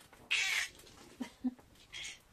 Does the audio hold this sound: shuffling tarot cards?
no